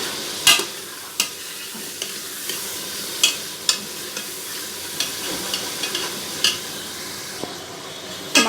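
Masala sizzling and frying in a pan for an egg and potato curry, with a steady fry hiss broken by sharp scrapes and knocks of a spoon stirring against the pan at irregular intervals.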